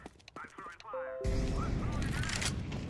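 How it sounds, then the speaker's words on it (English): A short Windows notification chime with a few clear stepped tones, set against game sounds during an online shooter match, then a burst of loud game noise right after. "That was my Windows noise."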